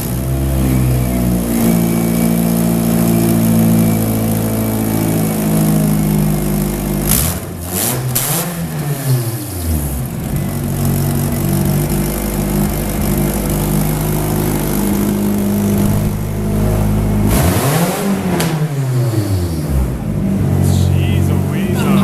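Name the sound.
KA24 engine in 240sx S13 started and revving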